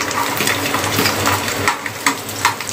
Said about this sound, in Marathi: लसूण जो होता तो आपल्याला यामध्ये घालायचा आहे फ्राय करायला.